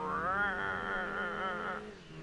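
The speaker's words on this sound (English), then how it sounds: "the classic sort of race car tire screech sound effect" A race car's tires screech in Gran Turismo 2, a wavering, wailing squeal that holds for under two seconds and then fades out.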